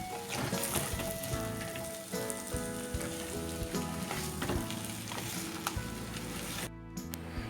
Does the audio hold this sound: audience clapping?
no